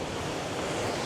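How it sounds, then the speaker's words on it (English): Water rushing over rocks at a beach, spilling like a waterfall; a steady, dense roar of wash and surf close to the microphone, with no voices. "Normally the water doesn't flow over, but it's flowing over, creating this massive big waterfall"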